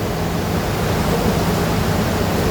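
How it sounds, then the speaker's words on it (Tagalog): The flooding Marikina River rushes in a dense, steady roar of churning water, loud and close with no pauses, like a broad torrent pouring past without let-up. "Abang-abang muna tayo sa dumadaloy na tubig. Umiingay na po, tumataas."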